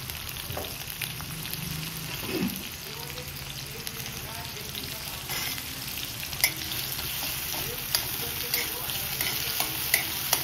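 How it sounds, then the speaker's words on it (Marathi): Onion with mustard seeds and cumin fries in oil in a kadhai, a steady close sizzle with scraping stirs and a few sharp pops, while a voice talks briefly. "कांदा, तेल, जिरे, मोहरी व्यवस्थितपणे उलटण्याने हलवायचे."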